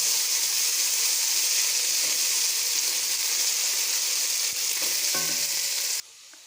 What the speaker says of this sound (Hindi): अब इसमें हम लहसुन अदरक का पेस्ट शामिल कर देंगे और इसको 1-2 मिनट हम इसको भूनेंगे